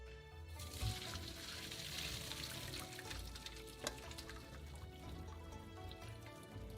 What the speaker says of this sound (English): Drain through a colander.